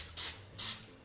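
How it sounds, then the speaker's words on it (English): Two short, loud bursts of Pam cooking spray hiss into a muffin tin, each about a fifth of a second, with a third burst just starting at the end; no talking. "So I'm just gonna spray this with some Pam."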